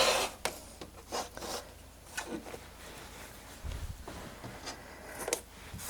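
Rotary cutter or blade trimming quilt block fabric made from scrap squares, soft close rasping and rubbing strokes in short irregular bursts, with occasional light bumps and no talk.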